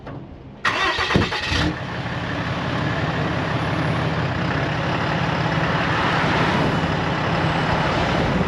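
A truck's engine starts with a brief burst, then settles into a steady, loud idle and runs on evenly while the vehicle pulls forward at the roadside after a tire change with a camper set on it.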